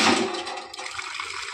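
Water gushes steadily from a hand-pumped tap, a loud broadband rush that briefly dips and then carries on with splashing texture.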